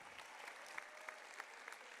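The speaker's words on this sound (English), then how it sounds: "a big round of applause for their hard work" Applause from an audience at an elementary school fifth grade promotion ceremony, a steady, fairly faint wash of clapping with occasional sharper claps standing out.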